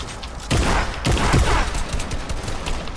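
Bursts of rapid gunfire in the video game Fortnite, two or three loud close volleys in quick succession with a sustained rattling tail.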